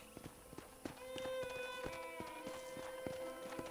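A horse in the Red Dead Redemption video game walks on a ranch with a steady, evenly spaced clip-clop of hooves, close and moderately loud, along with faint ambient tones.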